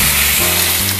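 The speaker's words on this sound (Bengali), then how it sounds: "এবার আমি এই গরম তেলের মধ্যে একটা একটা করে এইভাবে বসিয়ে দিচ্ছি টিক্কাগুলো" Paneer tikka pieces sizzle loudly in hot oil on a flat tawa, a dense, steady frying crackle filling the short moment without talk.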